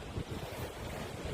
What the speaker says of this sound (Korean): 바다 파도 소리가 이제 좀 거칠게 들리고요. 바람도 굉장히 그 시원하게 이제 불어오고 있는데